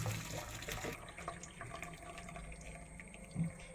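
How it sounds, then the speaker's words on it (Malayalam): Water from cooked ada (rice flakes for ada pradhaman) draining through a sieve, a steady faint splashing trickle that runs continuously with a brief louder gush at the start. "ഒരു അരിപ്പയിലേക്ക് വെള്ളം ഊറ്റിക്കളഞ്ഞ് വേണം അട നമ്മൾ ഊറ്റിയെടുക്കാനായിട്ട്."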